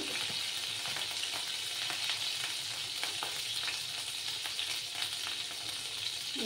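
Black cumin seeds sizzle in hot oil with a steady, bright crackling hiss and scattered tiny pops throughout, close and continuous, no voices.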